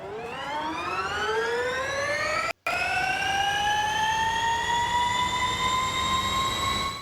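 Porsche Mission R electric race car motor in Forza Horizon 5, a loud rising electric whine with stacked climbing tones as it accelerates, briefly cut once, then holding high and steady.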